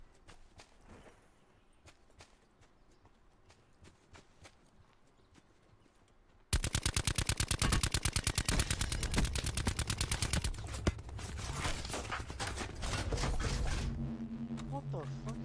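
Video game gunfire in Call of Duty Black Ops 4 Blackout: sparse distant shots and footsteps at first, then a sudden loud sustained burst of rapid automatic fire lasting several seconds, with voices talking over the game.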